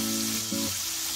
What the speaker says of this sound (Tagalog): So oras na para umpisa natin ang pagpre-prito.